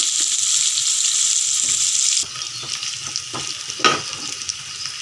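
Onions, green chillies and curry leaves frying in a pan, giving a loud, steady sizzle that drops in level partway through, followed by stirring clinks.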